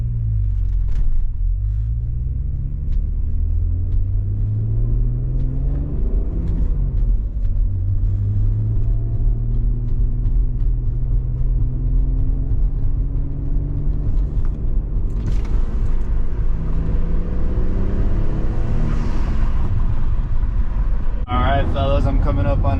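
Audi Avant engine pulling hard under wide-open throttle toward redline, a loud rising drone with falling pitch at each gear change, steady road rumble beneath, someone talking over it.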